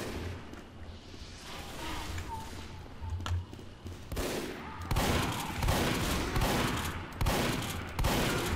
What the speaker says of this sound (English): I just landed 4 straight shots at him.